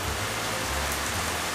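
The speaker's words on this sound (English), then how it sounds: "The rain's like actually coming in." Heavy rain pours in through open windows of a home in Japan, a dense, steady hiss of water with low rumbling undertones, close and continuous throughout.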